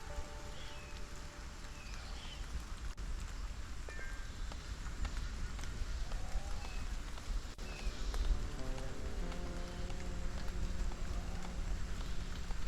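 Rain falls in the video game Stranded: Alien Dawn as a steady, even hiss with a few faint tonal game sounds drifting over it and no voices.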